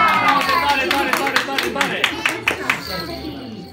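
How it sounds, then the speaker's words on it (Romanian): A small audience at a children's school celebration claps for a child named Antonia, a short burst of rhythmic hand claps fading out, with voices talking over it. "Aplauze pentru Antonia!"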